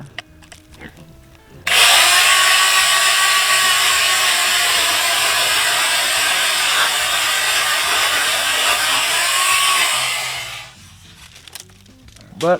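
A tiny chainsaw revs up and runs loud and steady for about nine seconds while cutting close to a tree, then winds down, with brief handling noise before and after.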